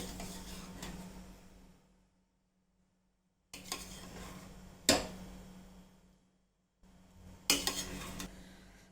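Homemade Mysore-style mutton biryani being mixed from the bottom up in a pressure cooker, with a spoon scraping and clinking against the metal pot in three close bursts separated by brief silences.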